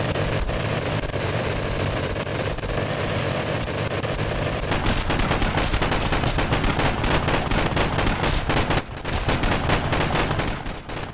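A 1000mm APS cannon in From the Depths fires in a dense, continuous barrage, loud, rapid booming shots overlapping into a roaring wall of gunfire with no talk.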